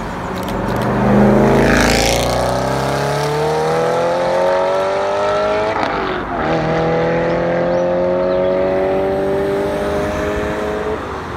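A Ferrari 488 Pista engine roars past up close, its pitch climbing as it revs, dipping briefly, then rising again in a sustained high-revving howl.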